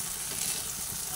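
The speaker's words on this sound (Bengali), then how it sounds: "পোস্তটা তেলের মধ্যে ভেজে নিচ্ছি" Poppy seeds frying in oil in a pan while a vegetarian pointed-gourd dish is cooked: a soft, steady, faint sizzling hiss with no break.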